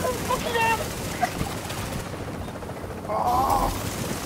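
Bursts of gunfire in the shooter game Rogue Chronicles, sharp shots and automatic fire crackling over a busy game soundscape, with voices talking in between.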